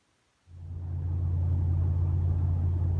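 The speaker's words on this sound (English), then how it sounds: "So I'm driving out to the shop." A B5 Audi S4 starts moving on the road after a brief quiet moment, then settles into a steady, close, low engine rumble with road noise that holds constant.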